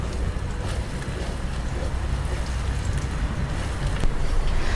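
Ginger sautéing in hot oil, heard as a steady, dense hiss that fills the whole stretch at an even, fairly loud level with no voices over it.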